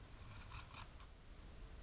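Tiny scissors snipping a wool pom pom in a few quick, soft, close clicks against a quiet background.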